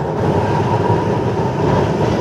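A Kolkata tram running along its tracks between Tollygunge and Ballygunge, giving a steady, loud mechanical rumble and drone heard from on board, continuous with no talking.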